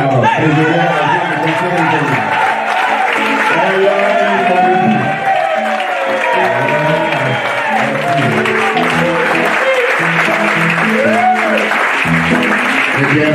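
A large crowd at a formal reception for a national coordinator applauds and cheers steadily throughout, with a dense, continuous roar of clapping, shouts and vocal calls that stays loud from start to finish.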